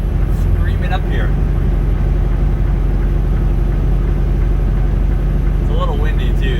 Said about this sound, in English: we're going up Cabbage right now, so the engine is screaming up here